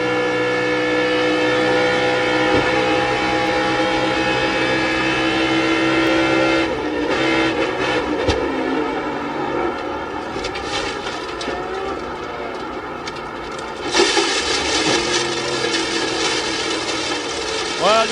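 Onboard engine of a race car in the 2004 Rolex Sports Car Series Grand Prix of Miami, loud and close, with steady high revs that drop and climb again through gear changes and braking.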